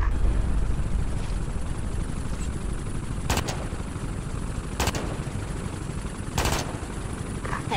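Three sharp, loud single gunshots ring out at spaced intervals over steady ambient rumble during a firefight at an old train station warehouse in Ghost Recon Advanced Warfighter 2.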